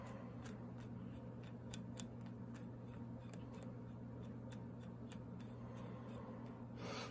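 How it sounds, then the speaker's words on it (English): Velcro brushed repeatedly over a freshly tied panfish jig gives a run of quick, faint, raspy scratching strokes in an even rhythm over a low steady hum. "And you grab your Velcro, brush that out."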